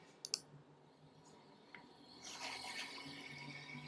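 A computer mouse clicks on a link, giving a couple of quick, faint clicks close by against a quiet background.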